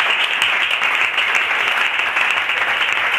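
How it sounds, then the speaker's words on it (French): A church congregation applauding to welcome a woman giving a testimony: loud, dense, continuous clapping with no pause across the whole stretch. "sous vos acclamations, recevoir pour encourager Madame Méhidi"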